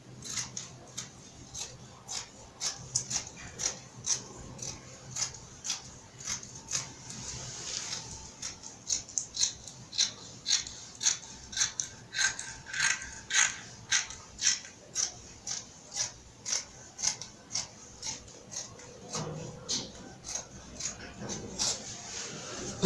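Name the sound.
scissors cutting trouser fabric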